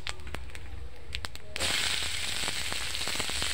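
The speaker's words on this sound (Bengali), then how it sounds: "মশলাটা ভালো করে কষে নেব" Onion, dried red chilli and cumin spice masala frying in a pan after cauliflower, a steady close sizzle with scattered crackles that suddenly grows louder and brighter midway.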